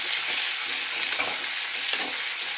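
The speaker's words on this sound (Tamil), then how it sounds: "அந்த பச்சை மிளகாய், அப்புறம் தக்காளி நல்லா போட்டு வதக்கி விடுங்க" Chopped onion, green chilli and tomato sauté in a hot pan with a constant close sizzle. Stirring scrapes and soft clacks repeat throughout, and no one speaks.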